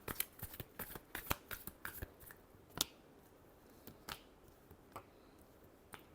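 Tarot cards are shuffled by hand in a quick series of close, crisp riffles and flicks, densest at first and then thinning into scattered taps, all fairly quiet with no talking.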